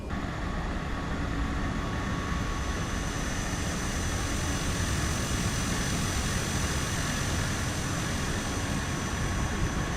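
A Cessna Caravan turboprop in Microsoft Flight Simulator, the Black Square Caravan: a steady, unbroken engine drone with a high whine riding on top, loud and even throughout, with no talk.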